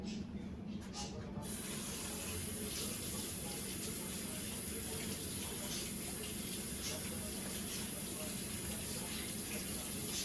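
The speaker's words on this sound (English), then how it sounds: "Now I'm gonna wash my hands" Hot tap water runs steadily into a kitchen sink while hands are washed under it to clean off butter, a constant close hiss and splash lasting the whole time.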